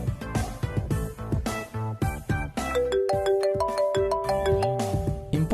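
An incoming call sets off a mobile phone ringtone, heard as a melodic electronic tune of steady repeating tones over busy background music, with no talking.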